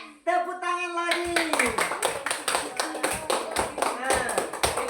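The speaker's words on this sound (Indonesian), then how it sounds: "Tepuk tangan lagi." Hands clapping in a classroom, a burst of sharp overlapping claps from a group of pupils that starts after about a second and keeps going, loud and close, with a brief stretch of talk at the start before it.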